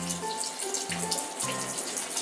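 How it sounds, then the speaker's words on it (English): Hands rinse under a running kitchen tap before cooking, a steady close stream of water splashing with brief shifts as the hands move through it, with no talking. "I'm washing my hands"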